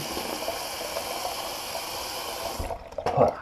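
Cold water runs steadily from a tap with a constant rushing hiss, then cuts off near the end, followed by a brief splash, while rinsing after a shave.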